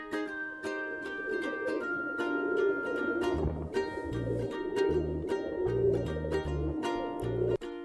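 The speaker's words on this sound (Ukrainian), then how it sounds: "Хто це воркотить? Так, це голуб." A pigeon coos in low, repeated throaty phrases while other birds chirp and sing brightly throughout.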